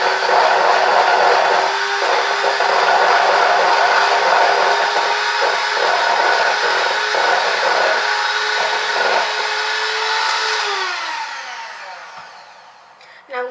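An electric mixer whirs loudly and steadily through red velvet cupcake batter, with occasional bumps against the bowl, before winding down near the end.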